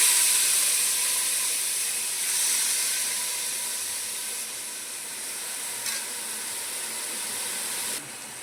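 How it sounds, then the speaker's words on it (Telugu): Frying in ghee for Hyderabadi kaddu ki kheer, bottle gourd sizzling with a steady, bright hiss throughout, a few faint stirring scrapes, slowly easing slightly in volume. "ఇది ఇప్పుడు ఫ్రై చేసుకోవాలి మంచిగా నెయ్యిలో వేసుకున్నానండి"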